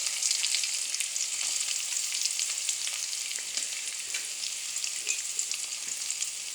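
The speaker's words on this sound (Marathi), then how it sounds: "गरम तेलात ते परतावे. आता कढीपत्ता आणि लसूण टाकलेला आहे. नंतर कांदा टाकावा." Onion frying in hot oil along with curry leaves and garlic, a steady bright sizzle with small crackles and pops throughout, close and continuous with no voices.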